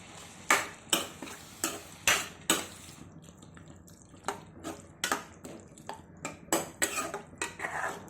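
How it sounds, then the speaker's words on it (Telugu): Ridge gourd and tomato curry with water, stirred in a pan: irregular clinks and scrapes of a spoon against the pan, sometimes in quick bursts, over a quiet background with faint wet bubbling. "మొత్తం ఒకసారి కలుపుకొని మూత పెట్టి 10-15 నిమిషాలు ఉడికించుకుందాం"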